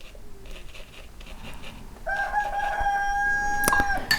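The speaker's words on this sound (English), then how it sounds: "there goes my young rooster. Did you hear it?" A young rooster crows partway through, a strained, drawn-out call rising over a steady background hum, fairly close and clear.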